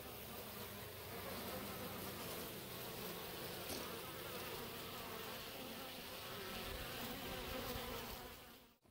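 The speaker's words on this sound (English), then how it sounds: "Today we're going to be installing a package of honeybees" Package of honeybees buzzing close by during hive installation, a dense continuous hum of many insects, faint and steady, fading out at the end.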